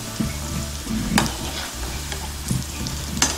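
Banana flower gola balls frying in hot oil give a steady, close sizzle and crackle, with occasional brief clinks and stirring sounds and no voices.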